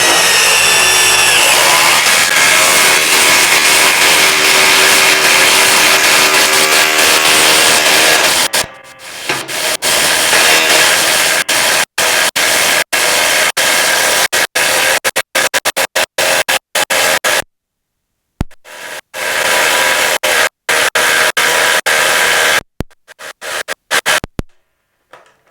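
Milwaukee 2953 and DeWalt 840 impact drivers drive a 4.5-inch lag screw, first a loud continuous hammering whir, then choppy bursts of impacting broken by short pauses and silences, close and loud throughout.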